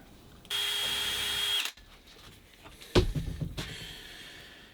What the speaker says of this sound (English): pre-drill all of these holes